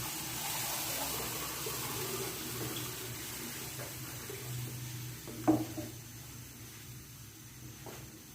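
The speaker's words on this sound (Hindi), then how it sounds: "अब हम इसमें आपने 2 गिलास पानी डालना है" Two glasses of water poured into a pot of potato chicken curry in a home kitchen in Pakistan, a soft continuous splashing stream that fades, followed by a brief clatter near the end.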